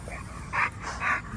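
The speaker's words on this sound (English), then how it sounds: "Great looking American bully." Standard American bully dog panting close by, rhythmic breaths with two louder whining, whimpering bursts, heard alone with no talk.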